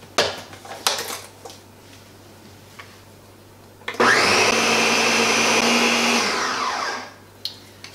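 A blender purées hummus with added olive oil and chickpea cooking liquid: a few knocks and clicks come first, then a loud, steady motor whir lasts about three seconds before winding down.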